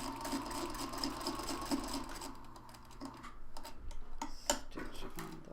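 Sewing machine stitching a hexie seam, running in a rapid, even whir of the needle before shifting into slower, irregular clicks and taps, fairly quiet and close.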